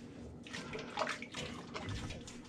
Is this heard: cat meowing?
no